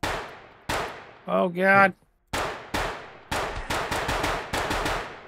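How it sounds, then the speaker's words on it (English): Video game gunfire in a bug-infested crawler game: a run of sharp, separate shots, sparse at first and then quickening into rapid bursts, loud and close, with a brief ringing metallic clang partway through and a short spoken exclamation. "I just hear your guys' guns and shit going off, bro."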